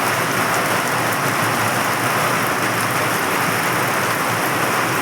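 Heavy night rain in Hyderabad pours steadily on surfaces, a loud unbroken hiss; no distinct thunderclap stands out.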